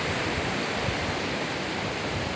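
Ocean waves wash steadily onto a beach in Gambia, a dense, continuous broadband roar of surf with no distinct breaks, close and fairly loud throughout.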